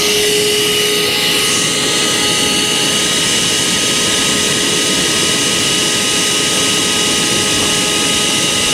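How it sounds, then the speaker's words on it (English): A portable shop vac runs at the beach with a loud, steady, unbroken whining roar that holds at the same level throughout, close up, with no talk over it. "I don't know too many people that bring a portable shop vac to the beach"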